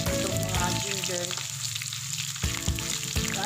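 Ginger sizzling in rendered pork fat in a pan, a steady, close frying crackle throughout with brief stirring scrapes and no talk.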